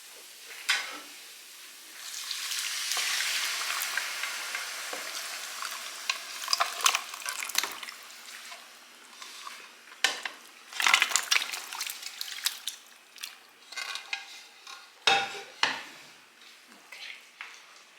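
Cooked mutton is stirred into soft-cooked tomato masala in a pan for a Kerala-style curry, with a gentle sizzle under repeated wet scraping and clinking stirs arriving in irregular bursts.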